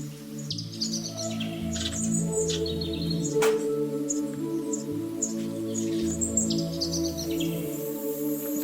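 Small birds chirp and tweet around their nests at a rural home, in bright repeated bursts over a steady low tonal hum. The calls are moderately close and fairly soft.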